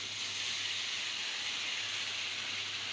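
Black cumin (nigella seeds) sizzle in leftover hilsa-frying oil, giving a steady, even hiss that holds at a moderate level without a break.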